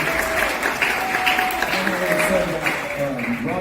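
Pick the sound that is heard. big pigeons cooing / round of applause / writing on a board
round of applause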